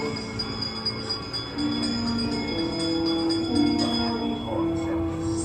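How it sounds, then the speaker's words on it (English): A bell ringing at Disneyland amid a spooky spirit-summoning chant, with sustained ringing tones that linger under a speaking voice. "ringing a bell."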